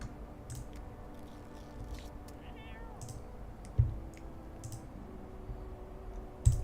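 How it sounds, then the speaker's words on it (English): A cat meows inside a video game, a short wavering call in the middle, set among quiet clicking and a couple of sharp thumps. "Meow meow"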